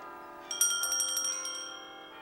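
Church bells ring out with bright, sustained metallic tones that swell and overlap, then slowly fade, heard alone at a moderate distance.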